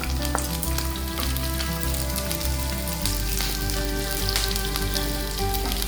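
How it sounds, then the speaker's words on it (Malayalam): Garlic and green chillies fry in hot oil for a pomelo pickle, making a loud, steady, close sizzle with a dense crackle that runs unbroken throughout, with no voices. "വെളുത്തുള്ളിയും പച്ചമുളകും ചേർക്കാം."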